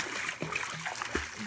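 A German Shorthaired Pointer swimming, with brief close splashes and trickling water under a person's speech.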